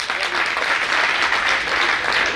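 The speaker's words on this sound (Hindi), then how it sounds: "तुम ताली महिलाओं के लिए बजा रहे" Steady, loud applause fills a Jain religious gathering at the Sheetaltirth Panchkalyanak, a dense continuous clapping from a large audience that holds its level without a break.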